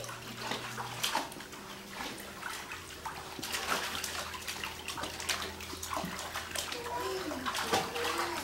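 A child plunges their head into a basin of water at home, with repeated splashing and sloshing that continues throughout, while children and an adult talk and call out over the water sounds.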